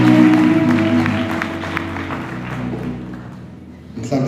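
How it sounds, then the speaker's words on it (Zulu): A church congregation claps hands together in praise to God, a broad wash of applause under sustained sung tones that gradually fades over a few seconds before a brief rise at the end. "Singamshayela uNkulunkulu ihlombe."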